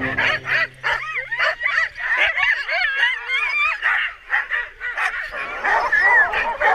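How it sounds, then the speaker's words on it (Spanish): Several sled dogs bark, yip and whine excitedly all at once, in a loud, continuous chorus close by. "voy a recoger a los perros."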